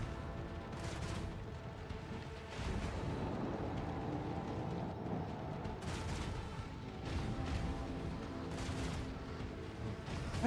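Ship guns in Warhammer: Rogue Trader firing at incoming torpedoes, a quiet, steady rumble of rapid distant gunfire with periodic sharper bursts throughout.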